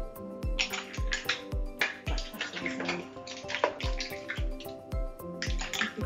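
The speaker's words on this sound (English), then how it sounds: "Now, just ladle our mussels and our broth into a nice serving bowl." Mussels and tomato chilli broth are ladled into a serving bowl, with repeated clinks of shells and metal against the bowl over light liquid splashes, close up and fairly quiet.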